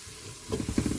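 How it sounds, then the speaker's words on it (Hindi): Crumbled chicken stock cube frying into a masala for mixed shahi daal, a soft hiss that bursts into brief louder crackles and sizzles halfway through, close up and with no talk. "जो चिकन क्यूब मैंने डाली है उसको भी हम ऐसे तोड़ के और इसमें भून लेंगे"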